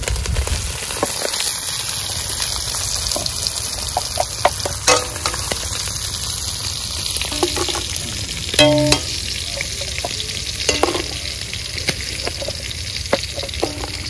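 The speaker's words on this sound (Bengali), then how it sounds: "চিংড়ি মাছ মোটামুটি ভাজা হয়ে গেছে" Prawns frying in a pan, a continuous close crackling sizzle with spattering pops and occasional sharp clinks and scrapes of stirring, steady throughout.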